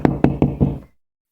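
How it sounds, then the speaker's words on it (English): Four firm knocks on a door, evenly spaced and close, followed by sudden silence. "That was the sound of a knock on the door."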